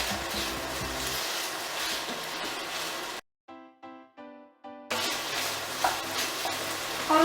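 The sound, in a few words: potatoes sautéing and being stirred in a pot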